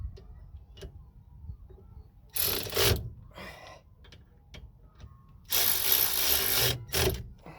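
Close ratchet clicks as a socket wrench tightens the brake caliper bolts on a Ford Fiesta Mk6, in two loud bursts of rapid clicking separated by quieter handling noises and single taps.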